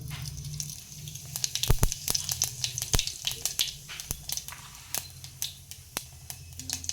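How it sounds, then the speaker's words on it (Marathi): Cumin seeds hit hot oil in a home kitchen while making buttermilk kadhi, giving a close, crackling sizzle with scattered sharp pops over a steady frying hiss. "आता आपण यात जिरे टाकूयात"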